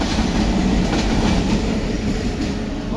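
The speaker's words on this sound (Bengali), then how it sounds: "ট্রেন চলে যাচ্ছে" A railway train rolling past close by, a loud continuous rumble with rhythmic clattering of wheels on rails throughout, no voices.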